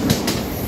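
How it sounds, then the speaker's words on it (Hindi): A Mumbai local train running slowly on the tracks between Mumbai Central and Dadar, heard as a steady, fairly loud rumble of carriages with a brief low thump near the start, no talking. "मेरा ट्रेन थोड़ा स्लो चल रहा है"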